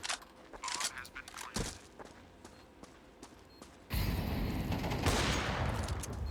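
Gunfire in Counter-Strike on the Dust II map: sharp shots and a short burst in the first half, then a loud continuous stretch of rapid firing and in-game noise, with players talking over game audio.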